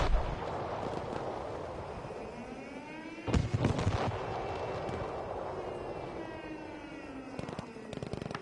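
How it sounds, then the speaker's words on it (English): A loud explosion bursts at the Bravo objective during a Frontlines first-person shooter match, a sharp blast and rumbling aftershock rising above a continuous wash of distant battle noise and gunfire. "Big old explosion at the Bravo point."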